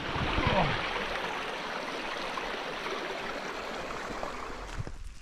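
Creek water flowing on a walk at Annie Creek along the Gibb River Road, a steady broadband rush heard close and fairly loud, constant throughout before dropping off abruptly near the end.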